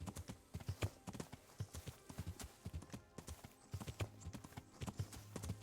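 Horse hooves clip-clop in a quick, uneven rhythm while riding in the video game Kingdom Come, faint and continuous with occasional low snorts or tack sounds.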